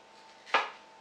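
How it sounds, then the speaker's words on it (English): A single sharp chop of a sharp kitchen knife through fresh ingredients on a cutting board, one close, brief knock standing alone against a quiet kitchen background. "I'm going to get to chopping."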